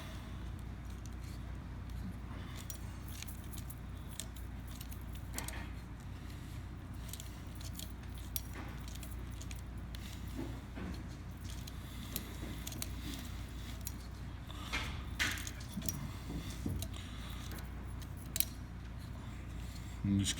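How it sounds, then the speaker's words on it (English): A tube cutter spun around a Robart Robostrut tube until it cuts through, a continuous close grinding and scraping texture with scattered metallic clicks and ticks, steady throughout. "I'm just going to continue to spin this until the tube is fully cut"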